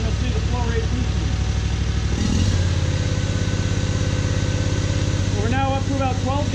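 An electric motor driving a high-flow power steering pump on a test rig hums steadily and rises in speed partway through, with a person talking over it.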